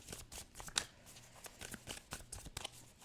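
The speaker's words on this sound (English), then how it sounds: "let's shuffle and get more clarity with the tarot on this" Tarot cards being shuffled by hand, heard as a quick run of soft papery riffles and rustles in irregular bursts, close but quiet, with no talking.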